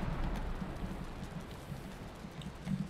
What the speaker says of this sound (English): it's all stormy and rainy now